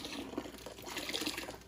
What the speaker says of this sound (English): Next, we're gonna add our brine to that apple juice.